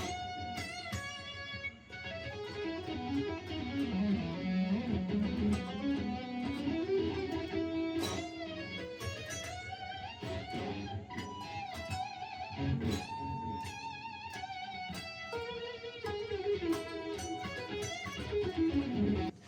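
An electric guitar plays a descending pentatonic lick of quick notes, ending on a sustained note with vibrato. The guitar is heard alone at moderate volume.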